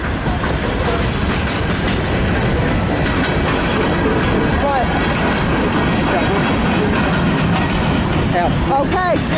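Norfolk Southern freight train rolling past a railfan spot in Fostoria, Ohio, loud and close, with continuous clickety-clack of wheels over rail joints and brief squeals; a person talks over the rumble.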